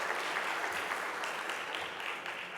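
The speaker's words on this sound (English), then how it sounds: "Let's give them a round of applause, please." Audience applause at an opening ceremony of a free-zones business conference, a steady, fairly soft wash of clapping that holds evenly throughout with no one speaking.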